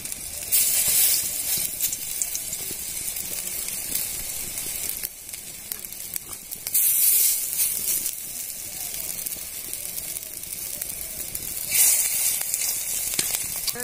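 Pumpkin flower fritters (kumro fuler bora) frying in oil in a wok, a loud continuous sizzle and hiss that swells in bursts as batter is pressed in, with no voices.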